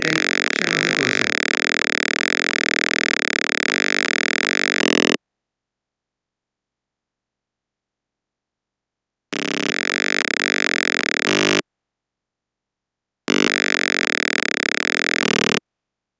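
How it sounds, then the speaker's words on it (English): A piezo speaker buzzer in a Tinkercad ultrasonic alert circuit sounds as a harsh, steady electronic tone in repeated bursts separated by silent gaps, loud and alone. "you can also hear the piezo speaker trying to make some kind of noise"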